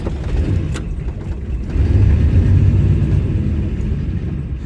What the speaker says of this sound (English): start the truck